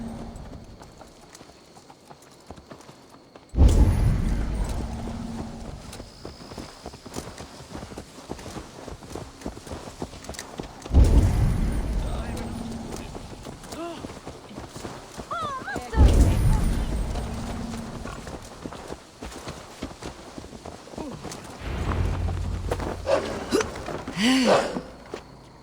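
Horse hooves in Assassin's Creed Valhalla clip-clop in bursts of steady footfalls, fairly close, with quieter stretches between and some background ambience.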